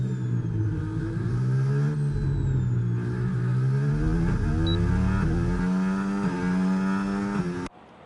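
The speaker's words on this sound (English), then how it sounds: "He's just hit 101 or 201 miles per hour there as he approaches the really, really difficult chicane going into the start-finish line" A Formula 1 car in the racing game F1 25 runs at top speed toward a chicane. Its loud, sustained, high engine whine rises and falls in pitch through the gears, then cuts off abruptly near the end.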